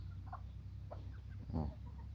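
A hybrid jungle fowl gamecock, sired by a wild jungle fowl out of an old-breed hen, gives a few soft, low clucks close by, with one louder throaty note near the end over a steady background hum.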